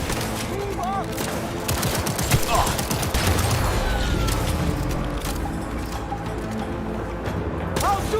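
Sustained gunfire in a firefight in the video game Cyberpunk 2077, with steady volleys of shots over a busy combat soundscape and occasional rising tonal whines.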